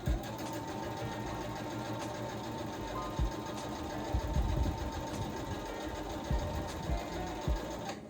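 A sewing machine stitches fabric, a fast mechanical whir with rhythmic needle clatter that speeds up and pauses in short bursts, close by.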